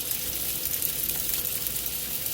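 Battered mushrooms frying in hot oil, cooked like French fries, giving a steady, close bubbling sizzle with a hissy crackle throughout and no voices.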